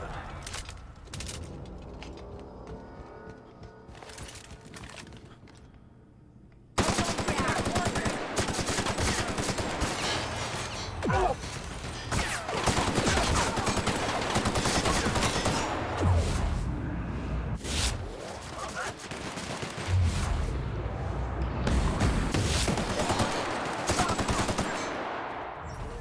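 Gunfire in The Outer Worlds: after a quieter opening, sustained loud rapid firing erupts and continues in dense volleys with booms mixed in, occasional voices faintly underneath.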